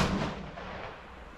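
A single loud rifle shot from a 6mm ARC test load fired during ladder load development, a sharp blast that opens the clip and rolls off into a decaying boom; no talking.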